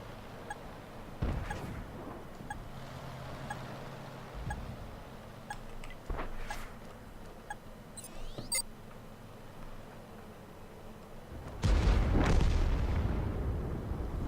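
An M24 Chaffee light tank's cannon fires in a tank battle game, with several sharp distant shots and then a heavy, loud blast near the end, over low engine rumble.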